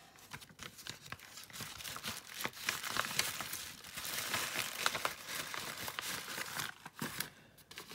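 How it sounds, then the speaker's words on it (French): A handmade shabby-style paper tag slid back into a paper envelope, with close, continuous crinkling, rustling and scraping of paper that swells and eases over several seconds, no voice over it. "Je remets dans l'enveloppe."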